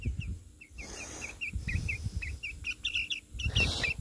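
A chicken being handled at a coop makes repeated thin, high chirping calls in a steady series, with rustling and handling noise underneath.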